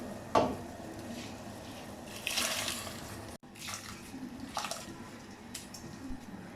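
Rice poured into a pot of boiling water while cooking a korma biryani, a brief splashing pour at the start, another soft rush midway, then quiet bubbling and small clinks close by.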